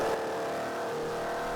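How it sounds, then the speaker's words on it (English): Alfa Romeo 1600GT Junior engine captured from under the hood on a track day, its hard induction note a loud, steady, close roar held throughout with some clipping distortion. "The hard induction sound is a big part of the character of these engines"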